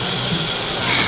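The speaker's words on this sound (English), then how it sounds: "This drill feels pretty good." A DeWalt-era cordless power drill fitted with an 8 amp hour battery, running steadily at high speed with a constant whirring motor hum, close and loud for about a second.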